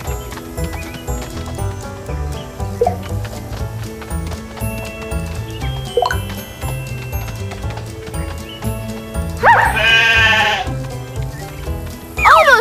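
A cartoon sheep bleats over bouncy background music with clip-clop hoofbeats, short bleats early on and a louder, longer bleat near the end, no talking.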